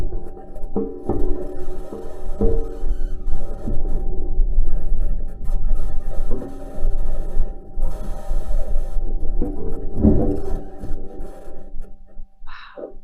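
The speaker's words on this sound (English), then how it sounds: "those faint metal sounds you're hearing are the wheels running over rocks on the surface" Perseverance rover wheels rolling over rocks on the Martian surface, heard as faint metallic clanks and scrapes at an uneven rhythm over a steady low rumble and mechanical hum, with no voices.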